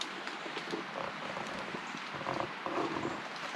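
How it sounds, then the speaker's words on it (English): Steady rain patters on a sagging camping tarp strung between trees on a backpacking trip, a dense continuous drumming close overhead with scattered heavier drops, no voices. "It's raining again,"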